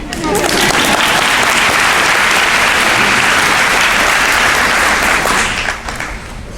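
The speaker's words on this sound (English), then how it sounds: "I agree, let's clap." Audience at a middle school graduation ceremony breaks into loud, sustained applause, a dense wash of clapping that fills the room for about six seconds before starting to fade at the end.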